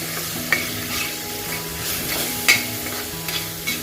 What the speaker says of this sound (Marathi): चलो मिक्स करना है फिर से